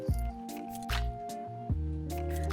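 Egg salad being stirred with an added tablespoon of mayonnaise, giving three wet, squishy scraping strokes with short pauses between them, close and fairly quiet, no talking.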